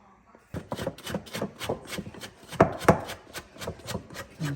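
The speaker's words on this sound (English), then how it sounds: "And then switch to the bench scraper, so it makes it easier, or you can use your hands." A bench scraper works sticky sourdough dough around a bowl, giving a steady run of close scraping and slapping strokes about twice a second, each a short rough rasp.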